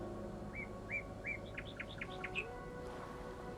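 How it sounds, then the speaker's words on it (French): Small birds chirp in a quick series of bright, rising tweets over a steady, rushing background of flowing water. "Écoutez le son des oiseaux"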